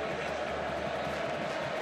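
A huge stadium crowd roars steadily at a Kyle Field college football game between Texas A&M and Alabama, a dense, sustained wash of cheering that fills the whole moment.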